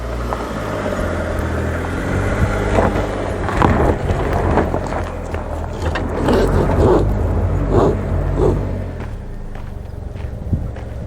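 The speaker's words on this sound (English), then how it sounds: "Front wheels are spinning." Chevrolet Trailblazer AWD RS struggling off road with its front wheels spinning and a rear wheel lifted, giving a steady rough rumble of engine and tires grinding on dirt with scattered crunches and thumps throughout.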